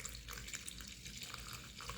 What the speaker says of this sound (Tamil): அதில் ஒரு கால் லிட்ரு தண்ணி வந்து நான் ஆட் பண்ணிக்கிறேன்